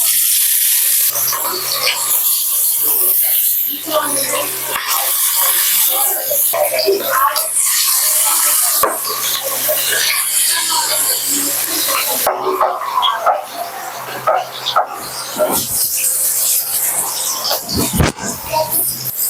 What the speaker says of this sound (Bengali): তেল গরম হয়ে গেছে এবার আমি দিয়ে দেবো মাছগুলো ভাজার জন্য